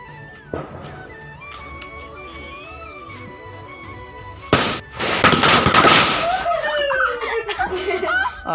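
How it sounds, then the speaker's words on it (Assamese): A Jalkiya bomb firecracker goes off during Diwali: a sudden broad burst and crackling fizz that lasts over a second, with chuckling, laughter and voices before and after. "এতিয়া ফটকা ফুটাবলৈ সাজু"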